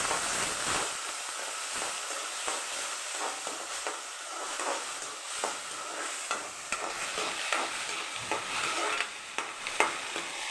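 Chana dal (kadala parippu) fries in a small splash of oil, giving a steady close sizzle broken by soft scraping and stirring clicks from the pan.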